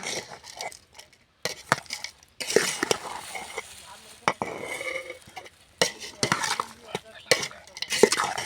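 Mango mixture with jaggery being worked in a pot, with close clattering scrapes, stirring and metallic knocks in irregular bursts and brief pauses between them.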